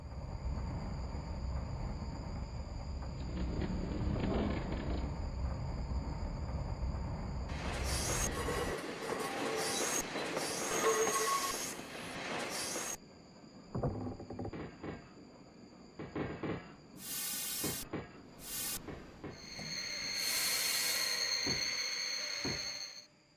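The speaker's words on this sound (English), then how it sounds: "hearing hissing train sounds in the background" An interurban train in the Train Simulator Classic game rumbles and clatters, then lets out repeated sharp hissing bursts of air brakes and steam between quieter gaps and a faint squeal, with no talk.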